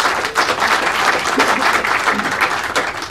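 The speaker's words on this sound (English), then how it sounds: "from the applause that I'm hearing" An audience at an SMPTE New York meeting applauds a presentation, a dense, close, continuous clatter of many hands clapping with no pause.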